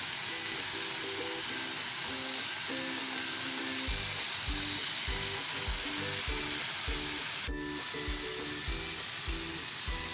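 Chicken tikka pieces sizzle and fry steadily in a hot pan as they are flipped, a constant crackling hiss with soft scraping and turning sounds and no talk.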